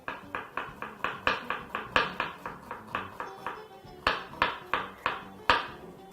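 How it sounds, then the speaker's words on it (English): A knife chopping an onion into half moon shapes on a board, a run of about twenty sharp, evenly spaced taps with a brief pause midway, close and clear. "proceed once more to chop that into some half moon"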